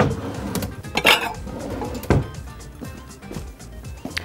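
Pots and pans clatter as a deep dish is pulled out of a kitchen stack, with a few sharp metallic clanks and knocks over quieter rummaging.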